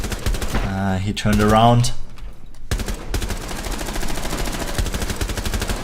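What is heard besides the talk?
gunfire from a gun in the video game Rainbow Six Siege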